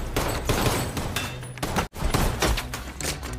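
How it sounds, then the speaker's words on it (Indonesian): Heavy gunfire erupts in rapid, dense volleys during a film shootout, loud and close, with a brief break before the shooting resumes. "Spontan terjadilah adu tembak-tembakan."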